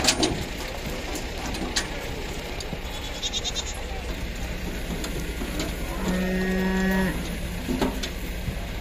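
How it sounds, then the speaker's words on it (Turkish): Male lambs and other livestock at a busy animal market, with a loud drawn-out moo or bleat standing out near the end over a steady crowd hum and scattered voices. "erkek kuzu geldi, hem de kaliteli kuzular"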